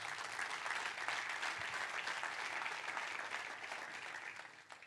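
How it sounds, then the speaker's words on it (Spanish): Congregation applause during a church sermon, a steady wash of many hands clapping that sounds somewhat distant in a large hall, fading a little toward the end. "Denle un fuerte aplauso a Dios."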